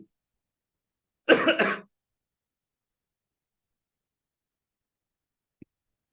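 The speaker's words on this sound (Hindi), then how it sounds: "पोल्यूशन की वजह से खांसी है" A single short cough burst, close and alone, followed by silence and a faint tiny click.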